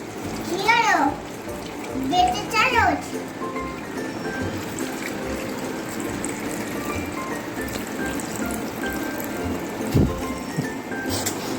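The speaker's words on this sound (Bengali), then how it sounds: "বাবান এই তুমি কলটা বন্ধ করো না ওকে" Water runs from a tap into a basin at home, a steady hiss under the voices of an adult and a child, with a few brief bursts of talk and splashing.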